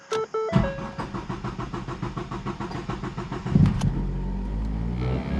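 A 2014 Ford Focus engine with low fuel pressure cranks over and over in a fast, steady rhythm for several seconds, then catches and settles into a low running rumble.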